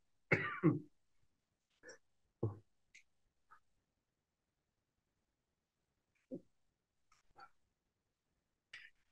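A burst of close, harsh coughing followed by several scattered smaller coughs and throat-clearing sounds separated by silence.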